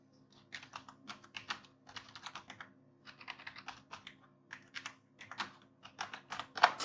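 Someone types bill details into an Excel sheet on a computer keyboard, producing soft, quick key clatter in uneven bursts with short pauses. It is faint and close, with no voices.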